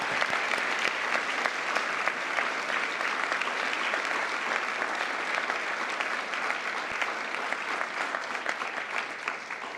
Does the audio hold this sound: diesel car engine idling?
no